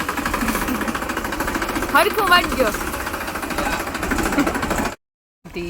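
A tractor engine chugs with a fast, steady knocking beat, loud and close, while someone talks over it in a farm field before a brief cut to silence.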